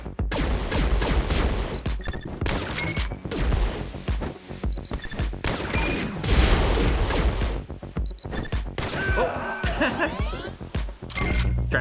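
Gunfire in the video game Katana Zero, level Slaughterhouse: dense, loud bursts of shots and booms with sharp electronic alarm-like tones and a crashing sweep near the end, alongside steady game music.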